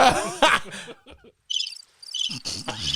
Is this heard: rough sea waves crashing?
no